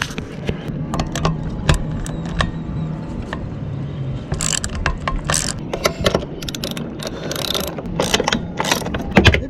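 Socket set ratchet loosening bolts on a boat's anchor windlass, a series of sharp clicking bursts at close range, irregular and repeated, over low background rumble.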